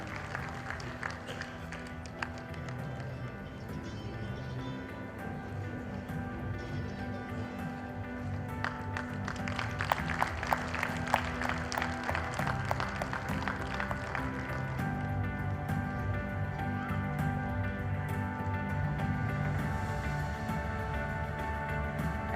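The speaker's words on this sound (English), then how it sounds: "So big round of applause for Anil Nair also." Audience applause at an HR conference, a steady broad clatter of many hands that runs throughout and swells in the middle, with music or a tonal hum underneath.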